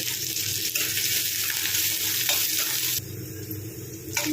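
Onions sizzle in hot oil with cumin and curry leaves, a dense close frying hiss with occasional stirring, steady and loud throughout with no one talking.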